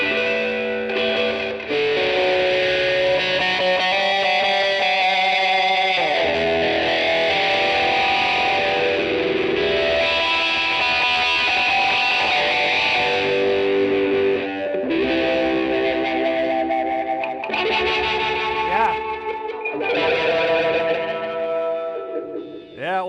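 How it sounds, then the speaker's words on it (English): Heavily distorted electric guitar through a Morley Analog Multi FX AFX-1 pedal plays sustained, chord-heavy riffs, loud and continuous with brief pauses between phrases. "Let's put distortion back on."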